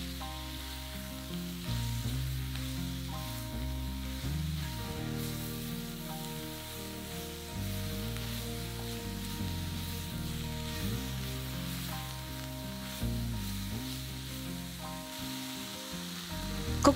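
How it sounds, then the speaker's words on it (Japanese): Chicken pieces and vegetables stir-frying in oil for green curry, a continuous soft sizzle with occasional stirring scrapes, heard close and fairly quiet throughout. "軽く炒めて全体に油を絡めます。"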